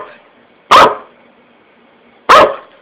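A pet dog barks indoors twice, about one and a half seconds apart, each bark short, loud and close over a quiet room hum.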